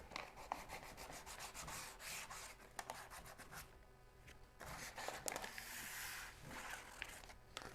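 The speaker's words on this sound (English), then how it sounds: "sand the popped grain" Sandpaper rubs over the popped wood grain of a painted frame in steady back-and-forth strokes, close and continuous with brief pauses, and no talking.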